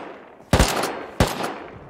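Two sharp, loud gunshots from the video game Rust ring out about two-thirds of a second apart, each with a short decaying tail, with no voices.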